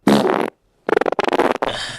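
Fart sound effect: a short blast, a brief gap, then a longer sputtering, flapping series of bursts, loud and close with no talk.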